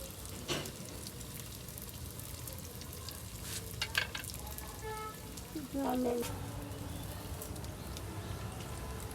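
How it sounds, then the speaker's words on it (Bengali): Rice cakes fry in oil in a pan on a clay stove, crackling and sizzling steadily, with a few clinks and faint background voices. "মাটির চুলায় তেলে পিঠা বানানো হচ্ছে।"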